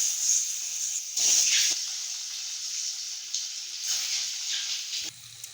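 Eggs hit hot oil in a pan for an egg pepper fry, giving short, bright bursts of hissing sizzle that swell and fade several times between quieter moments.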